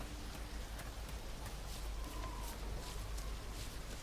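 Steady, soft rain hiss with scattered light droplet taps in the video game DayZ, continuous and fairly quiet throughout, no voices.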